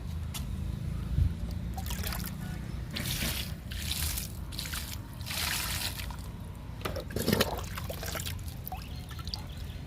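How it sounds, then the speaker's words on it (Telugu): Water trickles and pours steadily onto chrysanthemum plants, with a continuous low wash broken by brief louder splashy bursts, close and fairly quiet, with no one talking. "చామంతి మొక్కలకి వాటర్ ఇచ్చేద్దాము"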